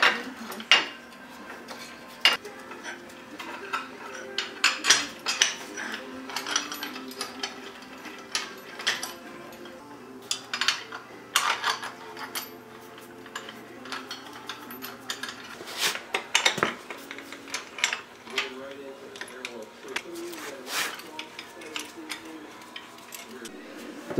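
Metal bolts and spacers clink and rattle as accessory drive brackets are fastened to the head of an LS engine, with scattered ratchet clicks and light metallic taps throughout, close and moderately loud.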